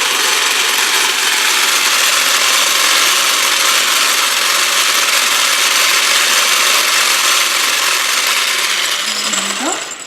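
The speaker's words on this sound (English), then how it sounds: "let's blend it on high speed again." A blender whirs steadily on high speed, frothing egg yolk for a gluten-free chocolate cinnamon souffle; the loud, even motor drone runs without a break and tapers slightly at the very end.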